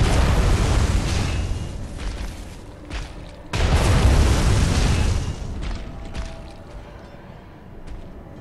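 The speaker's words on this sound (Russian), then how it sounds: "эти взрывы будут мне столько урона наносить" Heavy explosions rumble through a dark gothic battle in Bloodborne: The Old Hunters, two big booming blasts around the start and midway, each followed by decaying rumble and scattered smaller bursts.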